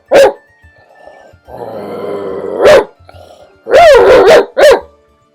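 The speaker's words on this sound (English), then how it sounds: "My dog downstairs is barking at me" A dog barks from downstairs in a home, sharp loud yelps in bursts at the start and end with a couple of quick barks late, separated by quieter growly, rumbling stretches.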